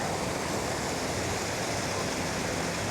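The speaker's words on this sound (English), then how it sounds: "Kind of a waterfall here," A small waterfall spills over the remains of an old dam into a stream, giving a steady, close, hissing rush of falling water with no pauses.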